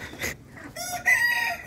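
A hen perched on a rooftop poultry setup gives a few close, fairly loud clucking calls, rising into a sharper drawn-out cackle near the end, with no talking.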